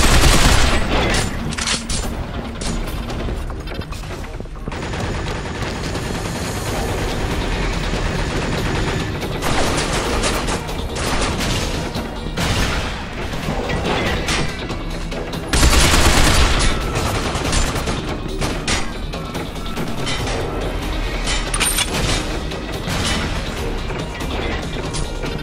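Dense bursts of gunfire from the shooter video game Binary Domain, loud and sustained with rapid automatic volleys and crashing impacts layered over a constant action mix.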